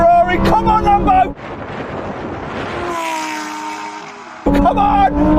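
Ferrari 488 Pista and Lamborghini Huracán STO supercars drag racing, engines roaring loudly past in a broad rushing sweep with wind buffeting, bracketed by people talking before and after.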